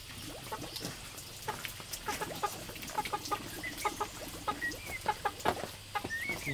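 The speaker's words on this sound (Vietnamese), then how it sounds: "con gà nó vào nó quậy quá" Chickens cluck and fuss in a steady stream of short, close calls, with a few higher squawks standing out over a low, constant background hum.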